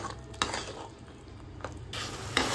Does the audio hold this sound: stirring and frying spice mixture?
yes